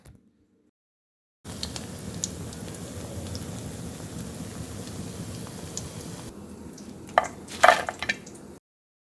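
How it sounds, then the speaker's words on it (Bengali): Okra (lady finger) frying in oil over medium heat, giving a steady dense sizzle that runs for several seconds after a silent start, with a few brief clinks of utensils near the end. "ভেন্ডিগুলো তেলের মধ্যে দিয়ে সঙ্গে সঙ্গে কিন্তু নাড়া যাবে না অবশ্যই এ দুই এক মিনিট পর নাড়বেন"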